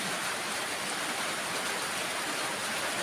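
Heavy rain in Korat pouring over flooded ground near a house: a dense, steady hiss of downpour and rushing water, loud and unbroken throughout.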